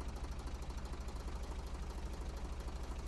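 Small tractor engine idling in the logging game Professional Lumberjack 2015, a steady low rumble with an even, rapid pulsing throb that holds constant and close throughout, with no voices.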